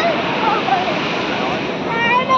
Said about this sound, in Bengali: দেখ আবার ঢেউ আসছে।